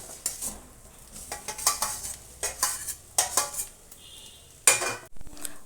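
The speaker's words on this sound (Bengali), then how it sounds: "আলুটা এবার নেড়ে চেড়ে মাছের সাথে খুব সুন্দর করে মিশিয়ে নিতে হবে।" A spoon scrapes and clatters in a pan as grated boiled potato is stirred into fried rohu fish filling, giving irregular nearby strokes over a faint sizzle, with no voices.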